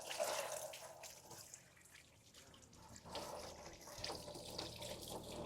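A pressure washer sprays water onto a car during washing, producing a steady hiss and splash that swells and eases over several seconds, fairly quiet and without speech.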